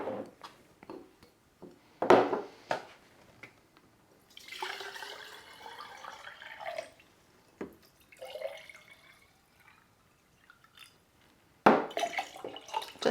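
Water trickling and splashing into a glass propagation jar holding a Monstera cutting, in several short pours with drips and pauses between, close and quiet.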